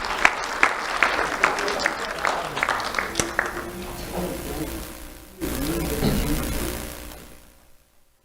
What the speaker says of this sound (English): Let's have a round of applause for Lucian Rangel.